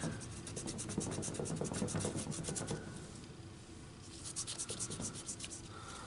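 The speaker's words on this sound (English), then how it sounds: "I'm gonna go through with a eraser and just erase any of my white pencil lines that I don't like" An eraser rubbing out white pencil lines on a painted portrait, a quiet, continuous scratchy scrubbing with rapid back-and-forth strokes, faint and close with no talking.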